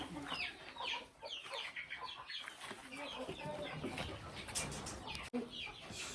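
A flock of hens scattering, clucking and squawking continuously nearby, with a few louder calls and a brief voice in the background.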